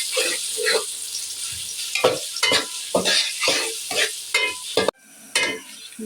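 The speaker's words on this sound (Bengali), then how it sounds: "পেঁয়াজটা আমি ভালো করে ভেজে নেব।" Chopped onions frying in hot oil for khichuri, a loud steady sizzle broken by repeated scraping stirs of a spatula in the pan, with a brief drop in sound near the end.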